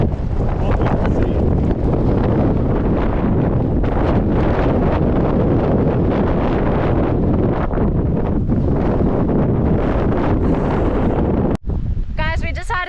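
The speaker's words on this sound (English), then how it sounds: "look how windy it is" Strong wind on a walk in Scotland roars and buffets the microphone loudly and continuously, with gusty rumbling throughout and a brief dropout near the end.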